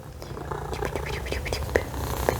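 Small cat purring close by, a continuous soft rumbling with a gentle breathy rhythm, while a person murmurs softly over it.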